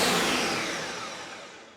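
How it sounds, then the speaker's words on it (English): A kitchen blender whirs loudly as it blends a thick oat flour, egg and yogurt batter with baking powder and stevia, a steady grinding roar that fades gradually over a couple of seconds, with no talking. "And then we blend it until it's nice and smooth."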